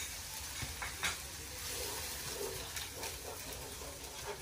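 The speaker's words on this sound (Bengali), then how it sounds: "পেঁয়াজগুলো ভেজে নিচ্ছে, মশলা দিয়ে দেন" Onions fry in a pan with a constant soft sizzle, broken by a few stirring scrapes and clatters, heard fairly quietly and without speech.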